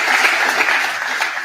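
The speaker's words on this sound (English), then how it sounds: "So can we give Mark another round of applause and thank him for the work that he's done" Audience applause after a jazz festival announcement, a dense steady clatter of many clapping hands, fairly close and continuous throughout.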